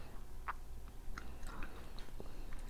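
Soft, close chewing of durian flesh, with moist smacking bites and quiet mouth sounds at irregular intervals over a low background hum.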